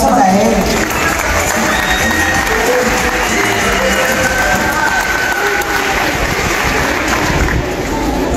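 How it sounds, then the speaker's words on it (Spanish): Crowd at an outdoor community event for the handover of a sports court applauds and cheers, a steady dense wash of clapping with voices mixed in, loud and continuous throughout. "aplauso para él."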